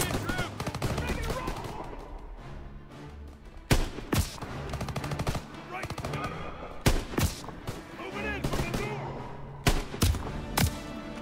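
Rapid bursts of rifle and machine-gun fire crackle through a Call of Duty: WWII firefight, with sharp close shots punching through repeatedly over a busy battle din while people talk beneath the shooting.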